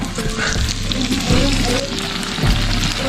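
Pork sizzles and spits steadily on a hot Thai grill pan, a close, continuous crackle with occasional scraping and a few quiet voices in the background.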